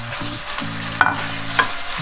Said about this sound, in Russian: И в этом масле мы уже будем обжаривать куриную грудку.